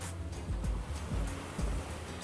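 Ocean surf rolls in low and steady, swelling in a few slow surges with a broad washing hiss, close and fairly soft, with no voices.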